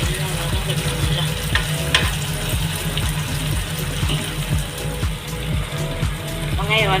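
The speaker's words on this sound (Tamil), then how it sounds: "வெங்காயம், தக்காளி எல்லாம் வதங்கிடுச்சுலாம்." Onions and tomatoes sautéing in a pan for sardine perattal: a loud, dense frying sizzle with stirring runs throughout, up close, with a voice or other tonal sound partly layered underneath.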